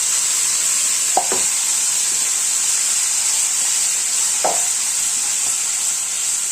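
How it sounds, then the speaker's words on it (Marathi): Gravy with mustard seeds, cumin, asafoetida and turmeric sizzles steadily in a pan, a continuous frying hiss with a couple of faint stirring scrapes, no talking. "आता ग्रेव्ही छान आपल्याला 1-2 मिनिटं परतून घ्यायची आहे"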